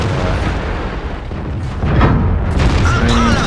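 In World of Tanks, a tank shell bounces off armour with a booming metallic impact over rumbling engine noise, loud and close, with a short ringing tail.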